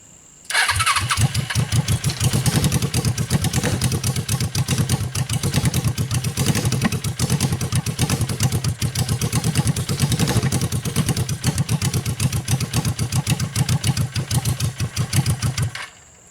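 A Suzuki engine cranks and catches, then runs at a steady rhythmic idle for about fifteen seconds before shutting off, loud and close with no talking.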